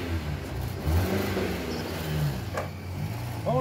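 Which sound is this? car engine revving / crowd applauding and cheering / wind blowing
car engine revving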